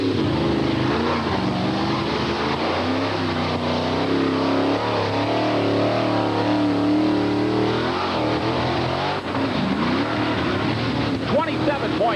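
Monster truck the Beast, a 1989 Chevrolet C3500 driven by Bob Holman, races a figure-8 course at an off-road jamboree in Bloomsburg, PA, its engine a loud continuous roar with rising and falling revs under an announcer's talk.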